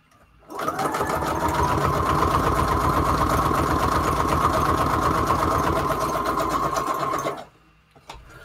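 Sewing machine stitching a regular zigzag down the middle of a layered junk journal embellishment, a loud, close, steady mechanical chatter running about seven seconds before stopping abruptly.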